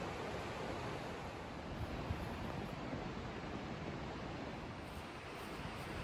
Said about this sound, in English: There's a river down there.